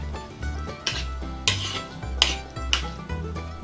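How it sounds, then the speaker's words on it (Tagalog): Anchovies with egg and tomato stirred in a bowl for tortang dilis, a utensil scraping and clinking against the bowl in several distinct strokes, close and clear, with no talking. "hahaluin lang po natin yung ating dilis na may itlog at saka kamatis"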